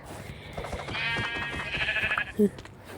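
A sheep bleats in the Minecraft video game, one drawn-out wavering cry heard clearly with a brief higher sound just after it.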